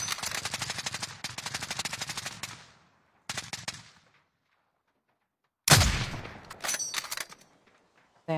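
Rapid automatic gunfire in a video game tournament match, loud bursts of dense shots with short pauses between, then a sharp heavy blast followed by further volleys.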